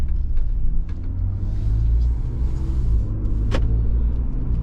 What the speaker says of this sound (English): we'll go for a quick drive now that everything's put back together